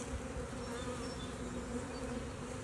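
Honey bees buzzing while working a nectar frame in a spring hive, a faint, steady, dense drone of many wings close by, continuous throughout without any voices.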